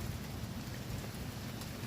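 Rain falling at a mountain dam in Montalban, Rizal: a dense, steady hiss of rainfall, close and fairly loud, unbroken and with no voices.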